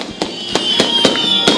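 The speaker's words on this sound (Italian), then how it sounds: "Che immagine bella è quella di Gesù accolto, salutato con i fuochi d'artificio" Fireworks and firecrackers burst during a religious procession at Torregaveta, greeting a statue of Jesus: about five sharp, loud bangs at uneven intervals over a steady crowd-and-street hiss.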